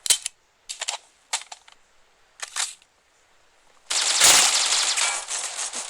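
Gunfire from a weapon in the mobile shooter game C-OPS: a few short, sharp bursts of clipped shots spaced out over several seconds, then a louder, sustained burst of rapid fire near the end, with no talking.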